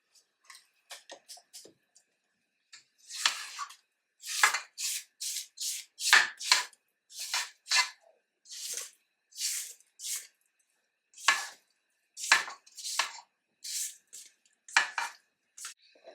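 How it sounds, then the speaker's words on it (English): A spatula scrapes down a mixing bowl of creamed butter and sugar, giving a series of close, short swishing and squishing strokes. The strokes come in an irregular rhythm with brief pauses between them, and there is no talk. "I'm gonna scrape my bowl down."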